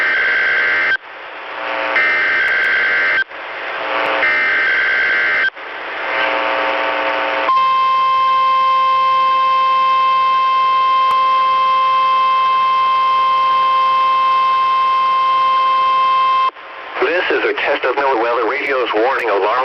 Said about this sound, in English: Warning alarm device and is being run in conjunction with the routine weekly test of the emergency alert system